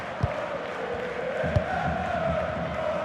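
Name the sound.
stadium crowd cheering in a football video game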